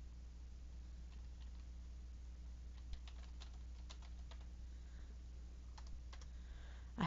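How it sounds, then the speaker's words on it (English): Faint, scattered clicks of typing on a computer keyboard during a Minecraft building session, short bursts of keystrokes spread over a low steady background hum, with no voices. "I hate this keyboard."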